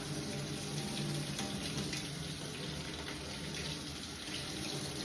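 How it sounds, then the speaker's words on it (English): Hands rinsed under a running tap, a steady close splash of water at even loudness throughout, with no talking. "then we're going to rinse our hands and go from the fingers up"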